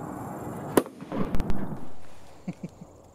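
A screamer pyrotechnic is fired at an airport to scare off wildlife. A sharp, loud report is followed by a fading rushing trail and a few smaller pops near the end.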